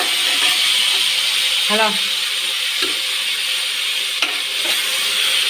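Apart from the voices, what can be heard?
stirring tomatoes frying with curry leaves in a pan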